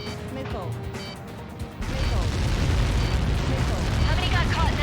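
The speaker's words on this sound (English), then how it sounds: "How many got caught in that explosion?" A massive explosion in the jet combat game Ace Combat 7 erupts partway through as a loud, sustained roaring rumble that swells and continues, following quieter in-game radio chatter.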